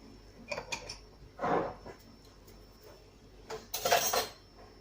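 Flour and mustard powder are tapped through a metal sieve, making a few quiet, irregular clinks and rattles in short bursts, with the loudest cluster near the end.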